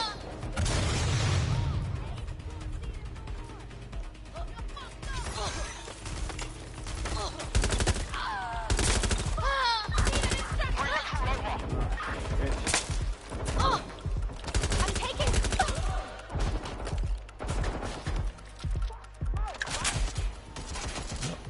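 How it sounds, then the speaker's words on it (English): Gunfire bursts ring out during a Watch Dogs Legion game, with repeated shots and volleys over a busy game soundscape, loud and close, and voices talking throughout. "Was that a gunshot? Of course it was a fucking gunshot."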